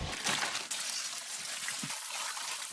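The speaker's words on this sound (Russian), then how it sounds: "Все хорошо промою" Running water splashes steadily as haggis ingredients are rinsed, a continuous close gush with faint clatters and no talk.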